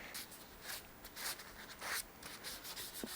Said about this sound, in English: I'm gonna sand the back.